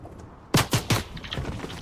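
Rapid gunfire sounds in a video game as players come under attack, a quick burst of three or four sharp shots followed by fainter scattered shots.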